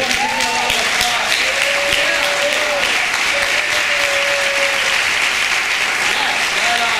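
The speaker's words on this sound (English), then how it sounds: "We want to give you a lot of applause." An audience gives a big round of applause for technology coaches standing up at a morning session: dense, sustained clapping from a large crowd, with voices calling out over it.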